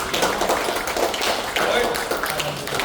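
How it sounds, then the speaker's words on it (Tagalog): Congregation clapping in praise during a church dedication day service, a dense, steady patter of many hands filling the room throughout. "bigyan po natin ng pagpuring palakpak ng ating Diyos"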